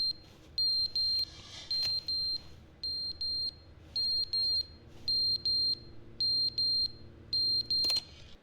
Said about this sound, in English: Where's that beeping coming from?